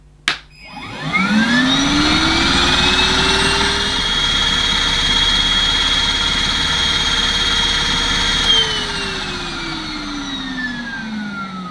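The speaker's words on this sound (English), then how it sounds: "So I'll switch on this cleaner, the Numatic NBV240, on low and then high" A Numatic NBV240 cordless vacuum cleaner switches on at low power, its motor rising to a steady, loud whine with a high tonal hum, then the pitch shifts and drops slightly near the end as it winds down.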